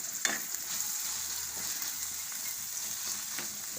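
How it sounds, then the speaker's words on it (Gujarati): Peas cooking in hot oil in a pan give a soft, even sizzle with a couple of light knocks near the start, fairly quiet and steady for the whole stretch. "તો ઘડીક આપણે હવે આને ચડવા દેવું, વટાણાને તેલમાં."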